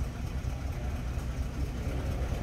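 A 1949 Cadillac Series 62 Sedan's V8 engine idling with a low, steady rumble, smooth and even, heard up close with no talking.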